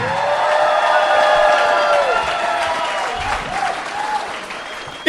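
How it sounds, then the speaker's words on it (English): Loud comedy show audience applause and cheering, steady clapping with whoops rising over it, continuing throughout. "Come on, guys, make some fucking noise for John Holgreen"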